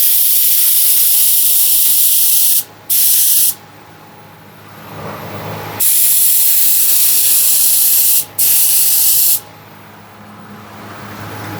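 Spray gun misting Lumilor paint at about 28 PSI: loud, steady airy hissing bursts of several seconds each, broken by short pauses, close to the nozzle and with no talking.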